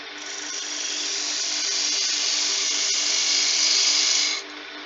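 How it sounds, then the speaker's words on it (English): Steady high whine of a parting tool cutting a tenon into a spinning wooden baby rattle blank on a wood lathe, continuous for about four seconds before stopping abruptly near the end. "I'm going to put a tenon on both ends of this using my parting tool."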